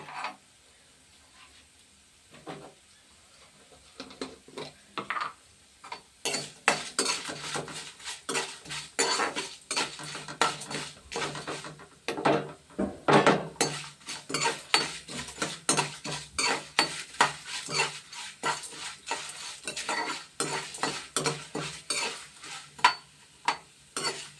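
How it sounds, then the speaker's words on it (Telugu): Curry leaves and tempering spices fry in a pan as a utensil clatters and scrapes against the metal, irregular sharp clinks over a light sizzle, growing busier after a quiet start. "పోపులు వేగుతాయి."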